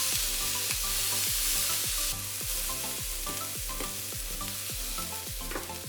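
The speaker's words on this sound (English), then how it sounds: "Stir it up." Bacon and shrimp fried rice is stirred in a hot pan, a spatula scraping in a regular rhythm of about two strokes per second over a continuous loud sizzle.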